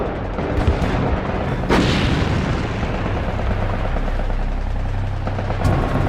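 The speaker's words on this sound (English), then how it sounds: "The guns of the warships on the outskirts of the task force chase away the bombers initially." Warship guns of a naval task force firing at Japanese Betty bombers at night, a dense rumble of heavy gunfire with sharp booms and a continuous low roar, loud and close, no voices.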